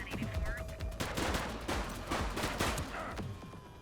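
Machine gun fire rattles through a shootout in the police game The Precinct, with dense, rapid bursts of loud gunshots overlapping continuously.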